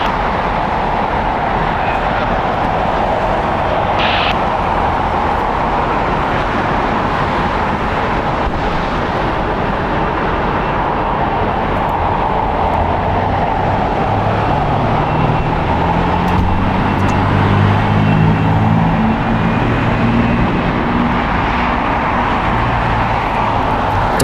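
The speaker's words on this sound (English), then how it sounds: "Departing on the north side, going to be Delta Airlines, flight 480 going to Honolulu. It's Boeing 767-300ER, 27 years old." A 27-year-old Delta Boeing 767-300ER departs LAX for Honolulu, its jet engines a steady, heavy rumble and roar held throughout with a rising low tone late on, blended with wind buffeting.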